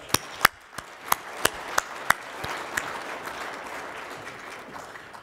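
An audience at a 2022 forum afternoon session applauds a panel, starting with a few sharp, separate claps that quickly swell into a continuous wash of clapping before easing off.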